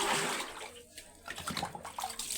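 Water runs out and drains near baskets kept for washing at a home in a water-short area, a gurgling, splashing flow that rises and falls in uneven bursts.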